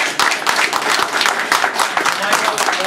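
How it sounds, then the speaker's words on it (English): Audience applause at a Toastmasters division contest, dense and loud from a crowd clapping continuously in a hall, with speech mixed in. "Ladies and gentlemen, please give one full round of applause for all of our presenters."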